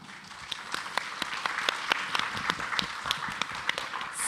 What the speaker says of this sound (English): let's welcome the four panelists and give them a round of applause